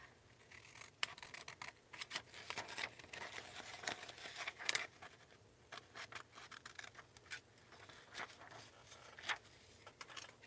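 Scissors snip through a paper ephemera page for a junk journal, giving a quiet, close series of sharp, irregular cuts and crisp rustles with no talking.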